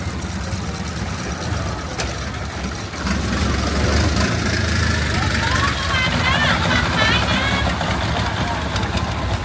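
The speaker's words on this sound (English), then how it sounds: "Hey, they got an engine." A boat engine runs on the water at a railway floating market, a steady low mechanical drone that thickens and grows louder partway through, with faint voices in the background.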